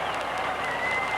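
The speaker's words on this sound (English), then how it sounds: "the fans here in the Rose Bowl applaud the fine defensive play." Fans at the Rose Bowl applaud during a 1978 NASL soccer match between the New York Cosmos and the Los Angeles Aztecs, a broad stadium roar of clapping held at even loudness through the brief moment.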